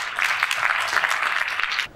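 Students in a university lecture hall applaud a guest speaker, a dense burst of steady clapping that carries on for nearly two seconds before tapering off abruptly.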